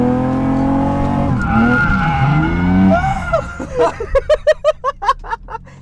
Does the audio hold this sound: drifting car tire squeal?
yes